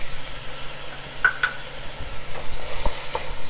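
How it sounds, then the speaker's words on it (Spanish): Pearl onion and garlic sauté in hot oil for rice, giving a steady close sizzle with a few brief clinks and scrapes of a spoon. "Siempre me gusta sofreír cebolla perla con ajo porque le da mucho más sabor a nuestro arroz."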